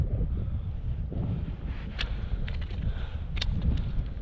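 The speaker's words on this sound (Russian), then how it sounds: "Ветер не перестает стихать." Gusty wind buffets the microphone on a snowy riverbank during a fishing trip, a steady low roar that stays loud throughout with no one talking.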